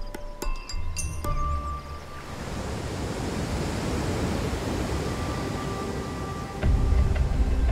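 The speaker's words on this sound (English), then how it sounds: "The falls are a stunning monument to the Nile's power" Steady broadband roar of rushing water at a Nile River waterfall, continuous and fairly distant, with a few brief tonal sounds at the start and a louder low rumble swelling near the end; no talking.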